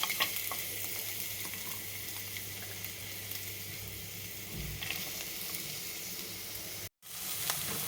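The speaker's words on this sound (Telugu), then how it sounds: "మూగుట్లో నూనె వేసి కాగిన తర్వాత ముందుగా ఈ ఉల్లిపాయలు వేయించుకుందాం" Chopped onions fry in hot oil in a pan, a steady, loud sizzle running unbroken for several seconds, with a brief stir and a momentary dropout near the end before the crackling resumes.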